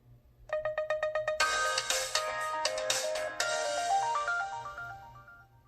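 An LG Lotus Sprint mobile phone plays its start-up sound, heard alone. A quick run of rhythmic electronic beeps leads into a bright, shimmering chord, then a rising string of tones closes the jingle.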